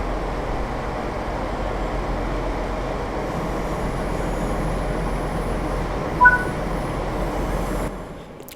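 A DB BR642 diesel railcar runs steadily in Train Sim World 5, a constant low engine drone and rolling rail rumble with a brief clunk near the end and no talk.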